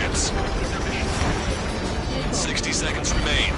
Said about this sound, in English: That's a confirmed direct hit by the missile.